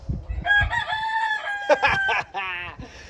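An old Hatch gamefowl rooster crows loud and close, one full drawn-out crow with a rough, breaking finish, alone without speech.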